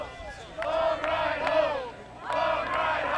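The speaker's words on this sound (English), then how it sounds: "And you hear the crowd chanting, "Long ride home."" Football crowd at a small-college game chanting a rhythmic taunt in unison, two sustained swells of massed voices with a short dip between, heard from the stands at moderate distance.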